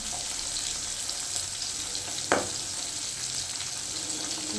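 Fish sizzles steadily in hot oil, a constant crackling hiss, with one brief clink partway through.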